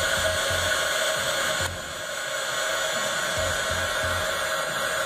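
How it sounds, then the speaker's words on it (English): An air gun blows steadily close by, drying a DIY glam wedding sign with a loud, continuous hiss and a faint rhythmic pulsing as it is worked back and forth. "So I'm just taking my air gun and working back and forth."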